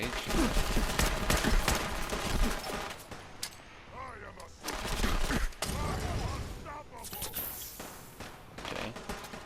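Guns fire during Fallout 4 combat in loud bursts of rapid shots that break off into short pauses, with softer clanks and footsteps between the volleys.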